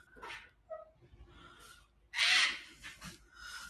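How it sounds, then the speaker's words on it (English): A cockatoo at a scenic lookout gives a loud, harsh squawk that bursts out partway through amid quieter outdoor background sounds. "That was a cockatoo making that loud squawky noise."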